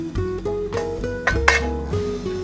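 Ingredients for a Vietnamese beef noodle salad with shredded coriander being tossed in a bowl, giving a quick run of close, light clinks and scrapes of utensils against the dish.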